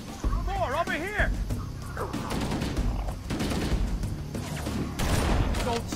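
Gunfire in Halo: Combat Evolved during a fight against the Flood, bursts of shots and crashes mixed with game creature cries and effects, with a voice talking over the action.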